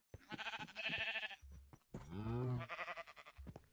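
Minecraft sheep bleat in short, wavering cries, two or three close calls in quick succession with quiet pauses between them and no talk over them.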